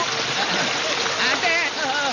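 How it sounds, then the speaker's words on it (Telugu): Heavy rain falls in a forest as a dense, steady hiss throughout the short stretch, with a voice speaking over it. "ఇక్కడ వర్షం ఆరంభమైందంటే 10 రోజుల వరకు ఆగదు."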